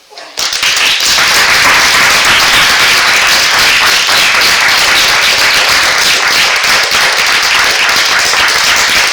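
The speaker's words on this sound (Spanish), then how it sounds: "Con nosotros, José Antonio Martínez Soler, pido para él un aplauso" A conference audience breaks into loud, sustained applause as a journalist is introduced. Many hands clap densely and evenly from a sharp start, filling the room close and full for the whole stretch.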